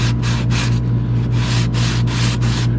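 Close, steady scratchy rubbing of a sanding sponge on a painted RV cabinet, in repeated back-and-forth strokes over a constant low hum.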